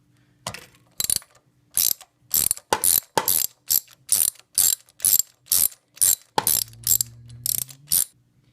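Sharp bursts of ratchet clicking from a wrench loosening a car spark plug after the boot is slid off, about a dozen short, close strokes in an even rhythm with brief pauses between them and no talk.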